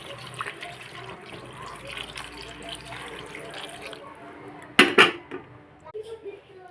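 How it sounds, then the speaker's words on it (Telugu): Water is poured into a pot of crab curry, a soft splash and rush that surges loudly for about a second midway, with quiet kitchen background and faint drips before and after. "కొంచెం వాటర్ వేద్దాం"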